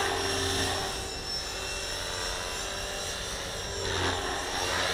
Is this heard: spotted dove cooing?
no